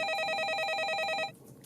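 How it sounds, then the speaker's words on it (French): An old telephone bell rings in a steady warbling trill, loud and close, for over a second before cutting off abruptly into quiet room tone. "Le téléphone sonne."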